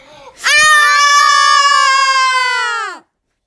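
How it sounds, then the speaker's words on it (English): A young girl screams nearby: a single sustained, piercing, high-pitched wail that holds steady for about two and a half seconds before cutting off abruptly. "My sister's screaming"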